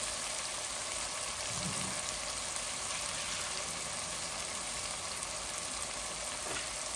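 Rui fish and cooking apple fry in a pan for a sour fish dish. A steady, even sizzle runs close and unbroken throughout, with no talking over it.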